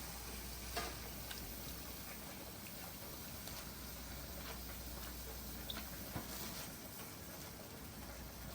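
Pasta primavera seasoned with chili flakes, salt and black pepper is stirred in a pan, giving a faint steady sizzle with soft scraping and occasional light clicks of a utensil.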